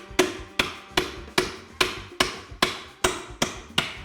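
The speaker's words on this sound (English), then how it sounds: "just get the nose of it started behind the baseboard and then just tap down gently" A baseboard removal tool is tapped down behind a baseboard with a hammer: about ten sharp, evenly spaced knocks, each ringing briefly, close up with no talking.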